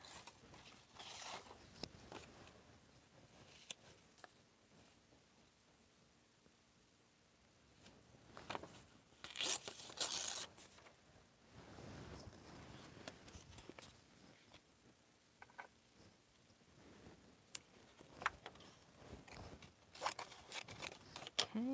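Paper is cut and torn by hand for a junk journal, heard as quiet snips, rustles and crinkles that come and go over a soft background, with sharper bursts of handling noise.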